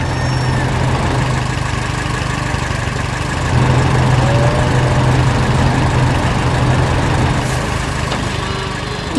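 Cartoon farm tractor engine running steadily, a loud continuous low droning rumble with a slight rise in intensity midway, heard alone without voices.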